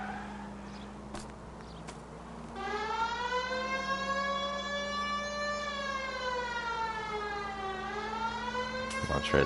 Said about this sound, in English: I'm not sure this is appropriate use of the siren because we're on our way to the club